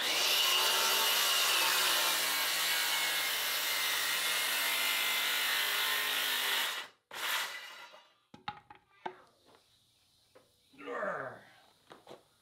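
A saw cuts through wood in one loud, continuous run for about seven seconds, then stops, followed by scattered knocks and brief talk.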